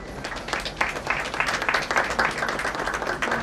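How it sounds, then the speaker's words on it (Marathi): Audience applause at an award ceremony in a hall, a steady dense wash of clapping from many hands lasting throughout, fairly loud and continuous with no voices over it. "टाळ्यांचा कडकडाट हवा."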